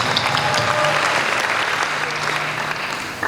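Applause from a youth jamboree audience at a church event, with a continuous, loud wash of many hands clapping and crowd noise beneath it.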